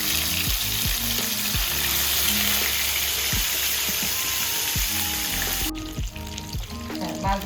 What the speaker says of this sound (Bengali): এখন মাছগুলি এইভাবে তেলে ভেজে নেব